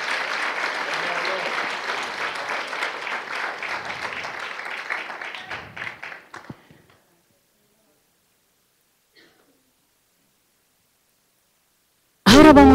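A church congregation applauds loudly for several seconds, the clapping thinning out and fading to silence, followed by a sudden burst of sound at the very end.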